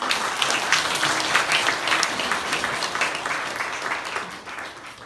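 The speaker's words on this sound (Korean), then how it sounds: "이게 전달하실 때 박수로" A church congregation applauds during a dedication ceremony, with dense, steady clapping from many hands that eases off slightly toward the end.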